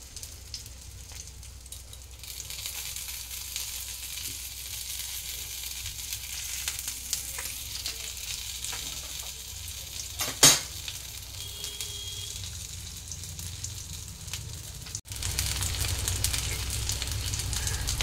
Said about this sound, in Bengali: এবার আমি সবগুলো উল্টে দিয়ে পিঠের দিকটা ভাজতে দিয়েছি।